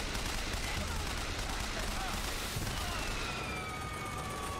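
Gunfire from Bioshock Infinite gameplay rattles in a steady, dense stream over a continuous game soundscape, with a faint siren-like tone rising near the end.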